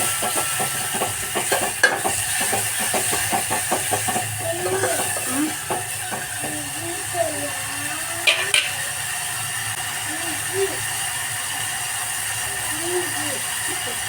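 Tomatoes with ginger sizzle in a hot pan on a home stove while a spoon stirs and scrapes in irregular bursts, a steady close frying hiss under faint background sound.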